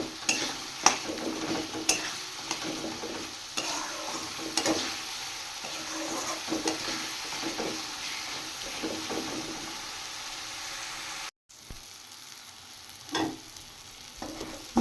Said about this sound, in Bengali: এইবার মশলাটা একসাথে ভালো করে কষিয়ে নেব।